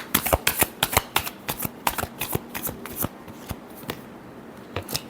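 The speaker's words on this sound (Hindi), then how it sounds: "Last shuffle." Tarot cards are shuffled by hand in a quick series of crisp riffling slaps and flicks, close and fairly loud, with irregular short gaps between bursts.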